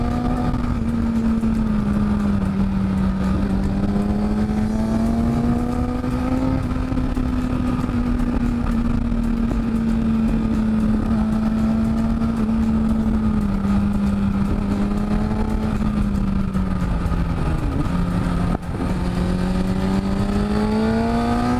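A 2008 Kawasaki ZX-6R motorcycle engine drones steadily and close up for a long stretch, with its pitch rising and falling gently as it accelerates. One short dip near the end could be a pop.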